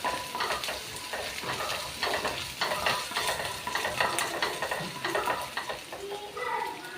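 Garlic is added to a frying pan and stirred, producing a lively sizzle with repeated scraping and clattering strokes of a spoon against the pan, close and busy throughout.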